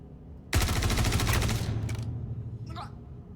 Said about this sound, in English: Not really sure where I took fire from there either.